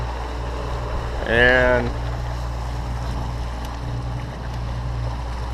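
A Suzuki 115 four-stroke outboard motor runs on a boat with a steady, even drone and wind noise, while someone speaks briefly over it.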